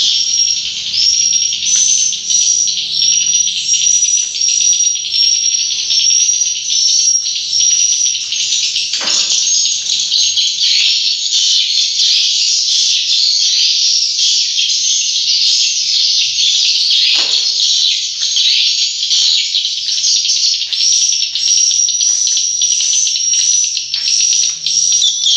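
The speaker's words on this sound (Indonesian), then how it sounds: "burung walet yang sebenarnya." Swiftlets at a nesting house fill the air with a loud, continuous mass of high chirps and twittering that never pauses, with a couple of brief low thumps underneath.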